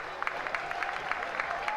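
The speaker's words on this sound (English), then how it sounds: "Big round of applause." Spectators at a schoolboy rowing regatta give a round of applause, moderate scattered clapping from a crowd outdoors, steady and somewhat distant, with a faint tone beneath.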